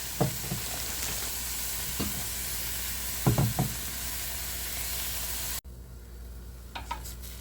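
Onions fry in olive oil in a pan with a steady close sizzle, broken by several knocking taps and stirring scrapes; the sizzle cuts off abruptly near the end, leaving a quieter hiss and a few light clicks.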